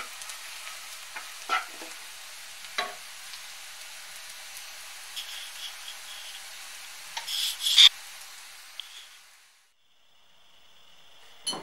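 Sausage fries in a pan with a little oil, a quiet, even sizzle broken by a few sharp clicks and knocks of utensils. The sound drops away near the end.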